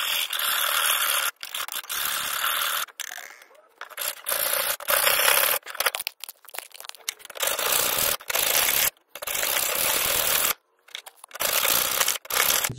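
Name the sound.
filing a scooter engine part to fit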